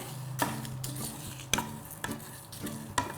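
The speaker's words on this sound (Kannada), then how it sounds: "ಇದನ್ನು ಸ್ವಲ್ಪ ಹುರ್ಕೊಳ್ಬೇಕು ಇದು ಘಮ್ ಅಂತ ಬಂದಾಗ ನಿಮಗೆ ಗೊತ್ತಾಗತ್ತೆ" Horse gram dry-roasting in a pan while being stirred, with a steady soft sizzle and rattle broken by four sharp scraping knocks of the spoon against the pan at regular intervals, no voices.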